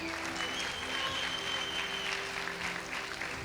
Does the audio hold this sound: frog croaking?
no